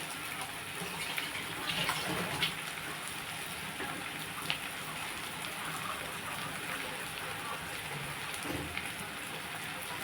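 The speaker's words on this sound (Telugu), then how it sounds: "కొంచెం నీళ్ళు వేస్తుంది" Water splashes steadily into a pan of raw banana kurma curry in a continuous rushing stream that stays even throughout.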